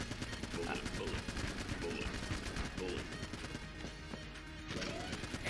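Rapid, continuous gunfire from the bullet gun in Enter the Gungeon rattles steadily in quick repeating bursts with thuds and impacts, fairly quiet overall, with faint voices underneath.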